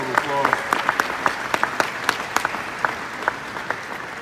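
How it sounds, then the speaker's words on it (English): Applause from an audience at a Michigan basketball press conference introducing a new coach, heard as a fairly sparse, modest patter of claps with some murmuring in the room; the clapping is moderately close and lasts the whole stretch. "So please give them all a round of applause."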